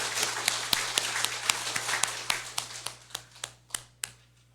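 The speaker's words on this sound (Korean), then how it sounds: "박수 한번 칠까요?" A church congregation claps in a hall, distinct sharp claps in a loose, fairly regular rhythm that thin out and fade over a few seconds, with a low electrical hum underneath.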